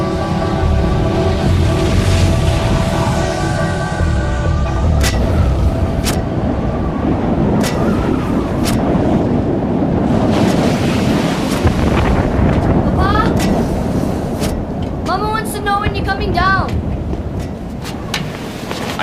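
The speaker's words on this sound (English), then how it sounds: "Throughout the night, the explosions increased." Krakatoa volcano explosions in a film soundtrack: a heavy, continuous roaring rumble like wind and surf, broken by repeated sharp cracks and bursts, with voices appearing briefly near the end.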